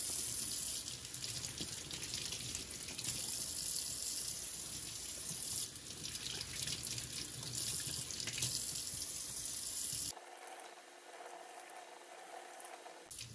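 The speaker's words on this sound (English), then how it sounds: "So we're now gonna rinse this off" Tap water runs steadily into a sink to rinse a dry-brined salmon fillet with its fins and collars intact, a continuous close splashing that thins out in the final few seconds.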